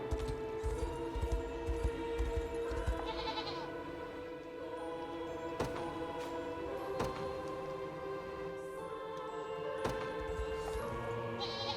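Goats bleat repeatedly in the fantasy video game Unicorn Overlord, several short calls rising over a steady bed of game music.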